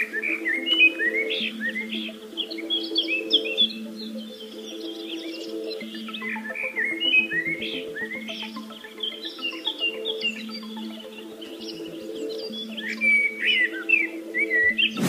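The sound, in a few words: passerine songbirds singing in nature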